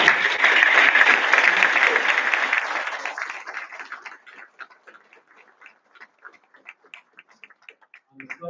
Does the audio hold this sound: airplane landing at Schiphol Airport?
no